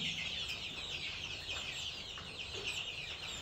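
Young chickens around twenty days old clucking and peeping on a farm, a steady chorus of small overlapping calls with a few sharper chirps standing out, fairly close and continuous.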